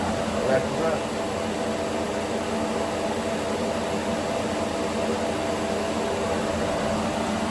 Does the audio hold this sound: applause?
no